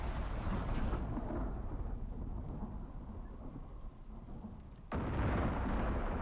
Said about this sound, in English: Nikki's gonna die by lightning